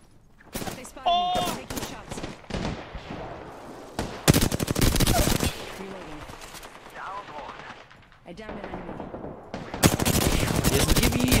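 Apex Legends gunfire: rapid machine-gun bursts and single shots, loud and close, in several clusters across the stretch, with a player's voice calling out between and over the shooting.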